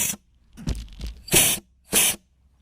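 Clutches in a junkyard 4L80E transmission popping as air is applied: a short series of sharp hissing air bursts with small popping thumps between them, close and fairly loud with silence in between.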